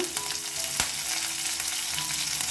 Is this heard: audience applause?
no